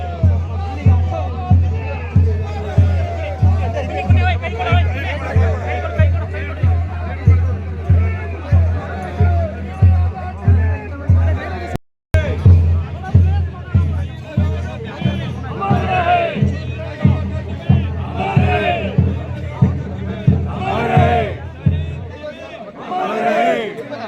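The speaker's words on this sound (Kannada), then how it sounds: "ಕ್ರೌಡ್ ಜಾಸ್ತಿ ಗಾಯ್ಸ್" A large crowd gathered at a soldier's funeral in Kodagu district, a dense continuous murmur of many voices chattering close around, with steady hubbub and some shuffling throughout.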